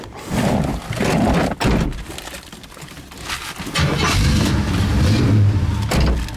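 A 1979 Trans Am's engine turns over and catches, then runs and revs steadily as the car pulls away, loud and close with some clunks.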